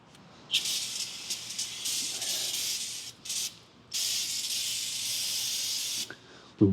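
Cleaner sprayed from a can onto the brake rotor of a 2015-2020 Hyundai Elantra, heard as several sustained close hissing bursts of differing length with short pauses between them.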